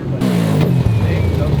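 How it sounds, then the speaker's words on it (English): A turbocharged rotary car engine with a plug fallen out of the exhaust, close and loud, a rough, buzzing idle with a harsh droning tone and a sharp pop partway through. "the plug fell out and it made the exhaust sound like this"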